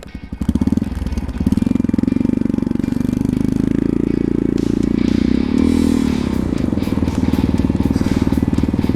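A motorcycle engine runs just after starting, with choke in use, a loud, close, steady rapid chugging that holds throughout with a slight rise in pitch near the end.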